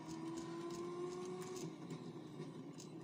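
Turbocharged 1970s race car engine in the racing video game Victory: The Age of Racing, a faint steady engine whine held at an even pitch for a few seconds, far off and low in level.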